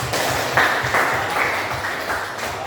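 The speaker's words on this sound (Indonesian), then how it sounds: "Tepuk tangan dulu." A classroom group claps together for a few seconds, a dense, close and fairly loud patter of hands that keeps up evenly without a pause.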